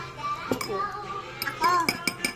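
A metal spoon clinks against a glass while juice ingredients are spooned in, a few light scattered taps under a child's and an adult's voices talking.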